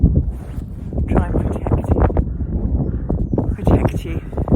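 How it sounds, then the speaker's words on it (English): Gusty wind buffets the microphone outdoors on a quiet spring stroll, producing loud, rumbling low-frequency roars that rise and fall in waves while someone talks over it. "Oh, I'm sorry if it's windy. It is windy."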